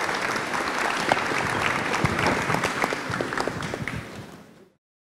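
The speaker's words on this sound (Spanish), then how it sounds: "pido un aplauso para nuestro panel" An audience applauds a panel at the close of a discussion session, dense steady clapping throughout that fades out near the end.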